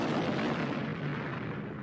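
An enormous cannon explodes as a story sound effect, a dense, sustained rumbling blast that fills the short moment loudly with no talking.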